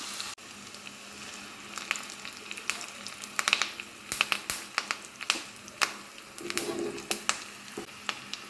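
Curry leaves hit hot coconut oil in a pan for fish curry, giving a run of sharp crackles and spitting pops over a low, continuous sizzle, heard up close.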